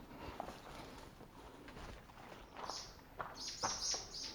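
Pigeons cooing and small birds chirping inside the ruined Bykhov castle, faint and scattered, with occasional footsteps on the ground nearby.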